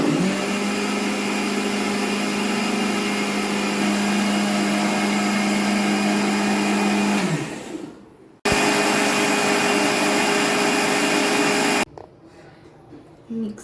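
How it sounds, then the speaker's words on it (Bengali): Mixer-style blender running loud and steady as it blends a drink with four or five cashews, cutting out, restarting for a second burst, then stopping. "এটা রেডি, এবার এটাকে ব্লেন্ড করে নেব।"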